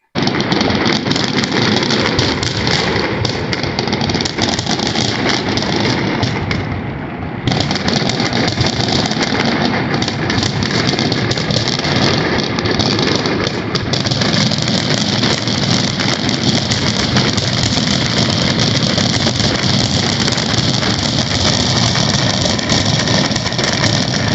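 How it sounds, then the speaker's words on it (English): Large New Year fireworks burst high in the sky, giving a loud, dense and continuous roar of explosions and crackle that barely lets up. "This is real fireworks. It was big and it was loud, and it was high up in the sky."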